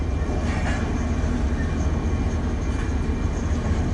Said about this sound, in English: there's KCS coming by as a DPU on this train